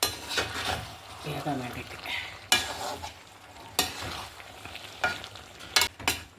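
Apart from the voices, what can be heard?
stirring chicken chukka masala in a pan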